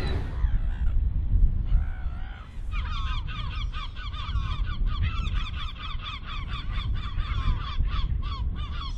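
A crowded flock of seagulls, packed more tightly than usual, calls in a dense overlapping chorus of harsh squawks and cries, near and continuous over outdoor noise.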